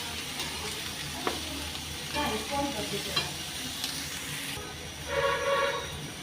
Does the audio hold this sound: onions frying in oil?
yes